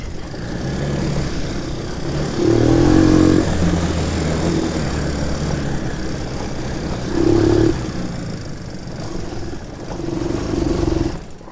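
A Shineray 250 quad bike engine drones close by while riding, rising in several throttle surges with rough clattering over a continuous low rumble, and no talk.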